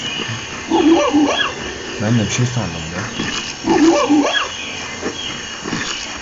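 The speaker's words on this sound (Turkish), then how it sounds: "Köpek mi maymun mu lan o? Maymunun sesiymiş." Monkey calls from the Disney Pixar Up video game, a chattering, yelping cry that comes twice with the same pattern over steady game background, while someone talks in Turkish.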